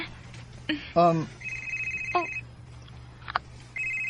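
A phone rings with an incoming call. Several short, bright electronic ringtone bursts repeat close by, and a voice talks briefly over them.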